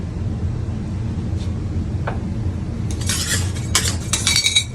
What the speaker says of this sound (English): And then we're going to mix that in just like we did the color.